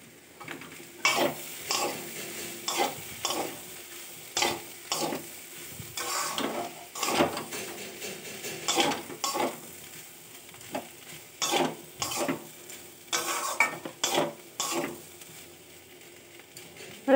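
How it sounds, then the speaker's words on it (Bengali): Ginger paste fries in a pan with a low hiss, while a spoon scrapes and knocks against the metal in a long run of irregular stirring strokes. "আদাটা একটু ভাজা হোক"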